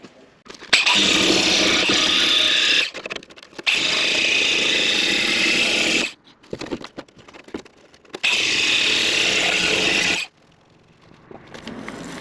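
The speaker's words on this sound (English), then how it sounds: "I'm going to use a grinder wheel, grind off a little bit more material, make it smooth" An angle grinder wheel grinding rusty steel on the cab corner of a 1967 Ford F100 pickup, a harsh, loud, close whine in three long sustained bursts separated by brief pauses and short blips.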